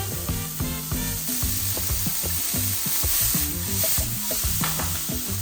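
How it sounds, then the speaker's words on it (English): Steak and onions frying in a hot pan for steak fried rice, a loud steady sizzle under rhythmic clanking and scraping of a spatula tossing the food, no talking. "Alright, now we're gonna throw in our steak."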